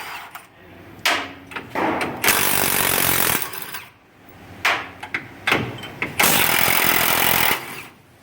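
A cordless Milwaukee power tool with a deep socket works on a 7.3 Powerstroke diesel truck during transmission removal, firing in short bursts followed by two longer, loud, rattling runs with pauses between them.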